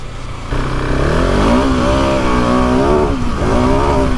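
Loud, close KTM 690 Enduro R or SMC R 2019 single-cylinder motorcycle engine revving, its pitch climbing and dipping through several surges of throttle, with no one speaking.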